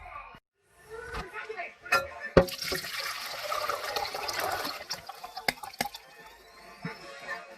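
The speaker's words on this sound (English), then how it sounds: "So I'm straining the herb of Oatstraw. And I'm just kind of, squeezing it" Oatstraw herbal infusion is strained and squeezed through a strainer into a Pyrex bowl. Close liquid splashing and trickling comes with scattered drips and knocks, and a voice can be heard in the background.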